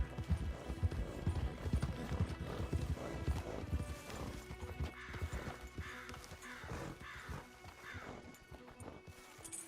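Horses' hooves clip-clop in Red Dead Redemption 2, loud at first and then fading into lighter, regular steps, with a horse whinnying partway through.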